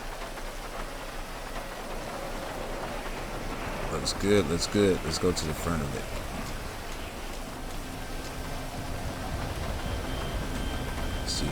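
Steady rain patters on a car in GTA 5 as a dense hiss, while someone talks over it and a few brief mechanical clicks sound partway through.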